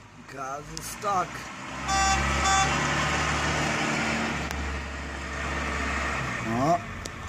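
Cars struggling on an icy Worcester road during an ice storm, engines droning and a low rumbling strain, with a couple of short horn toots and people talking over it.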